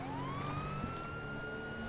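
Police car siren in Grand Theft Auto V, a wailing tone sweeping upward and holding, heard over game engine rumble with a couple of faint clicks.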